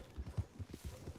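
Horse hooves clip-clop in Red Dead Online, a quick uneven run of about half a dozen dull, low thuds close by, heard alone without talk.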